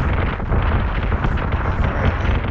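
A Valkyrie ship blowing up in a Battlestar Galactica space-battle game against a Cylon fleet: a loud, dense, sustained explosive roar with broadband rumble, continuous and unbroken, no talk over it.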